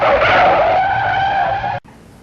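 A Mitsubishi Challenge looping around in tight circles lets out a loud, sustained tire squeal that holds steady for nearly two seconds, then cuts off abruptly, leaving quiet background.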